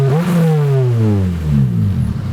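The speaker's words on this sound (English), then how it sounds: "Like, listen, this car is loud." A K-swapped Honda Integra Type R with a 3-inch straight-pipe exhaust revs loudly and then winds down, its deep raspy exhaust roaring close by with a falling pitch.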